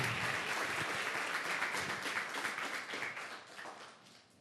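A church congregation applauds loudly and steadily, a dense wash of clapping that fades toward the end.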